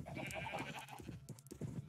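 A pig in the Minecraft video game gives short, repeated grunting oinks close by, surrounded by other farm animals in the game.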